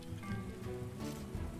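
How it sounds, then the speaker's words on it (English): Steady rainfall in the village-building strategy game Farthest Frontier, a continuous even patter of rain with a faint tonal background beneath it. "The rain continues, which should be dealing with the fires"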